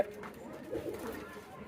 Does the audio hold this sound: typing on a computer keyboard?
no